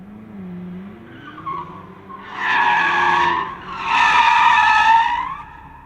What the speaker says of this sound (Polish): jak ten tył samochodu może się ślizgać